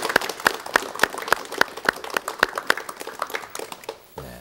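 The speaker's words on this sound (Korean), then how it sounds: "여러분 박수를 좀 부탁드리겠습니다" Applause from a studio audience on a 1986 Korean television talk show, many hands clapping in a sharp, uneven patter that fills the room for several seconds before cutting off.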